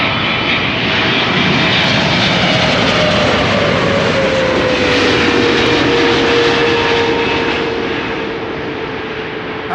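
Airliner at Amsterdam Schiphol Airport, likely a Boeing 777, roars loudly and steadily for the whole stretch with a slowly falling engine whine as it passes, no voices present.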